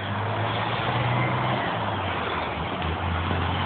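Steady idle of a 1992 Chrysler LeBaron's 3-liter V6 engine, a low, even rumble heard up close with a slight shift in tone partway through and no talk.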